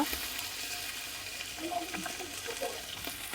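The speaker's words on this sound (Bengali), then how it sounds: "এখানে আমি কাঁচা মরিচ দিচ্ছি, জিরে বাটা, রসুন বাটা" Raw jackfruit cooking with green chilies and ground cumin and garlic pastes gives a steady, close sizzle of frying with faint stirring, continuous over the short stretch and without talk.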